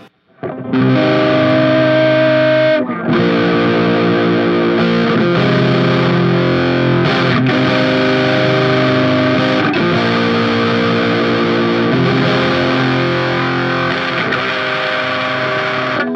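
Heavily distorted electric guitar chords through a Walrus Audio Silt Harmonic Fuzz pedal ring out thick and fuzzy, strummed and sustained one after another, loud and up front with no talking.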